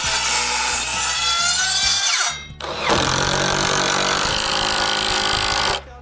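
A power saw cuts wood for a ramp, loud and close, whining steadily through the board. It breaks off briefly, then makes a second long cut that stops abruptly.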